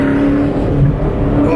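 An 850-horsepower BMW M8 drifts, its engine roaring loud and close with a steady, dense tire and exhaust rumble that fills the brief moment.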